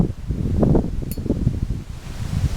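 Gusty outdoor wind buffets in uneven, low rumbling surges during work at an outdoor spot, rising and falling over a few seconds with no voices.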